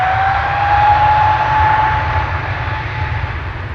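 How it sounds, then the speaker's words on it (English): An ITA Airways A321neo departs Amsterdam Schiphol, its engines producing a loud, continuous roar with a thin whining tone over a deep rumble, steady throughout with no voices. "Now going back to Rome as flight 107. It is an A321neo."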